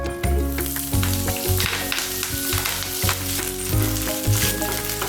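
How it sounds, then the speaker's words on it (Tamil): Drumstick leaves (murungai keerai) frying in oil in a pan, crackling and sizzling close up while louder rhythmic low clatter from stirring and music-like tones run underneath. "முருங்கீரை போட்டு நல்லா ஃப்ரை பண்ணிக்கலாம்."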